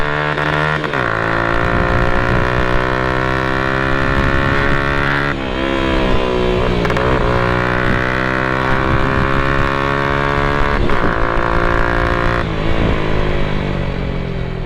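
A Hi Speed Infinity 150 motorcycle engine revs and accelerates loudly, its drone rising and dropping with several gear shifts over a steady, close exhaust roar.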